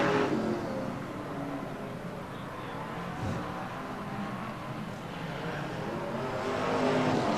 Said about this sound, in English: We're running BriSCA Formula 1 stock cars,